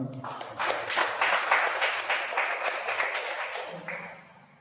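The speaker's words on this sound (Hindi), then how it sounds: "बहुत जोरदार तालियां होना" Steady applause from a church congregation at a Sunday service, many hands clapping together for a few seconds before fading, with a voice briefly heard near the end.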